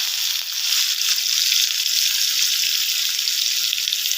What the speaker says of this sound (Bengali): আমি এবার পেঁয়াজ বাটা দিয়ে দিচ্ছি